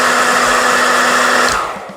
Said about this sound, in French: c'est un sèche-cheveux, mais c'est aussi un réacteur de fusée